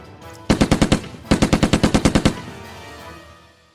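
Gunfire from the tactical war game Lock n Load Tactical comes as two loud, evenly spaced bursts of automatic fire, the first about six rounds and the second about a dozen, followed by a fading echo.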